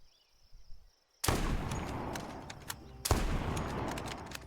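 Video game gunfire: after a quiet stretch, loud dense bursts of shots crack in abruptly and keep going, with a second hard burst near the end, all close and continuous.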